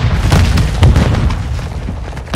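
A grenade explosion in the video game Call of Duty: MW2, a loud close boom with a rumbling tail that stays dense and heavy for a couple of seconds, with no talk over it.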